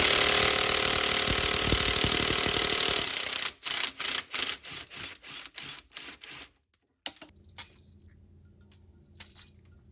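A 13 mm deep well socket loosens bolts on a rear AC line of a 2007–2014 Chevy Suburban or Tahoe. About three seconds of loud, continuous rattling drive give way to a run of sharp ratcheting clicks that thin out and fade.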